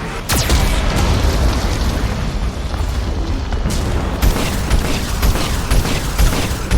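Geth cannon fire and explosions from the video game Mass Effect 2, a sustained run of loud, dense booms and blasts with sharp bursts near the start and again toward the end, no talk over them.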